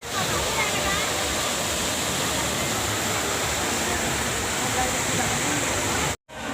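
A roaring waterfall close by gives a loud, dense, unbroken rush of falling water that drops out abruptly for a moment near the end.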